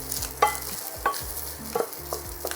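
Stuffed pumpkin with bacon and ham starting to cook in a pan, heard as a steady sizzle with a few short stirring scrapes and a faint low hum underneath.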